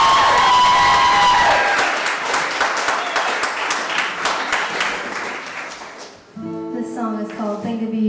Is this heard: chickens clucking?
no